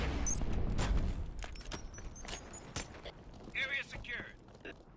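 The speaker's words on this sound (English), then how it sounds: "Grenade out!" Explosion and gunfire in a competitive 4v4 capture-area shooter game, with a loud blast at the start followed by scattered shots and clatter at mid distance, and a voice shouting over the action.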